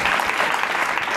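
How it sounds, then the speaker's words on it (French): A church congregation applauds and acclaims during a worship service, producing a dense, steady wash of clapping that fills the whole moment at close range with no pauses. "On acclame Jésus"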